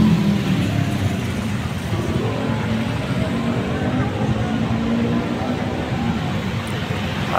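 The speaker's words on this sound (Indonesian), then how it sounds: "Situasi malam lebaran ya, jadi seperti biasa lalu lintas tidak begitu ramai" Light road traffic at night in front of Taman Kota Caruban on the eve of Lebaran: a continuous rumble of passing vehicles, with a person talking over it.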